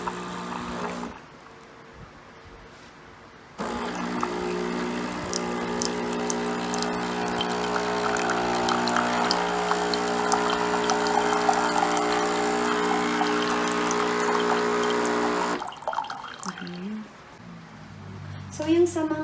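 A home coffee machine flushes and circulates water internally to clear residue, giving a steady pumping, gurgling rush that holds for over ten seconds between quieter stretches, with no talking.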